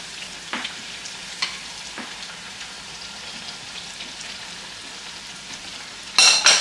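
Eggplant burgers frying in a pan with a steady, quiet sizzle and faint crackle throughout, a few sharper pops along the way, then a sudden louder hiss near the end.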